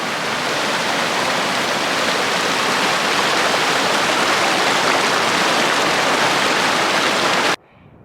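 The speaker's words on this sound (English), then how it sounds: "we're gonna run into multiple creek crossings like this" Creek water rushing over a trail crossing on a mountain thru-hike, a dense continuous roar of flowing water, close and loud, holding steady until a sudden cut just before the end.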